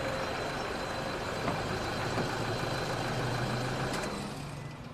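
A Toyota four-door pickup truck's engine idles with a steady low rumble before the engine noise drops away as it is switched off near the end.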